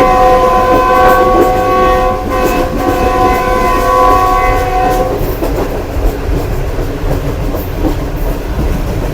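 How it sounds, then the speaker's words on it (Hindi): A loud, sustained train horn from a Pakistan Railways GU20 locomotive blares for several seconds over the rumble and clatter of a moving Green Line train, then fades into the rolling noise. "GU20 का हॉर्न तो बात ही नहीं करने दे रहा"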